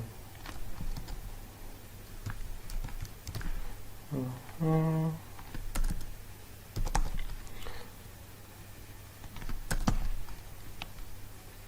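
Keystrokes on a computer keyboard in an office, light irregular tapping in short bursts with a few louder clicks, close and fairly quiet over a low steady hum.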